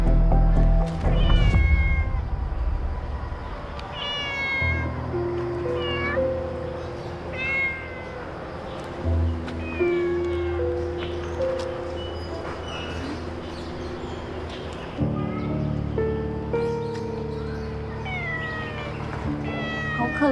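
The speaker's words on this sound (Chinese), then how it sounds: "好可怜的野猫啊！" A cat meows repeatedly in rising, plaintive cries over a steady low hum, several calls spread across the stretch with brief pauses between them.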